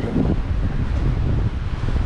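Strong wind buffets a small sailboat on the open ocean during a solo passage from the Canaries to Cape Verde, a steady loud low roar with microphone rumble throughout and no breaks.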